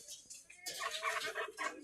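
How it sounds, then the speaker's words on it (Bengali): A native desi rooster on a Bangladeshi goat, duck and chicken farm gives short clucking calls, close and fairly loud, with a brief pause before a fuller burst of vocalizing. "এটা মোরগ, দেশি মোরগ"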